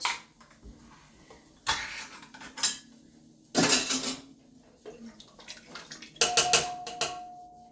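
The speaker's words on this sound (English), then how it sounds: "I'm going to open the Great Value brand diced tomatoes, and I'm not going to strain them because the juice is just going to add to the pot" A can of Great Value diced tomatoes is opened and its contents, juice included, are poured into a soup pot. Several bursts of clatter and metallic scraping are separated by quieter gaps, followed by a wet sloshing pour near the end.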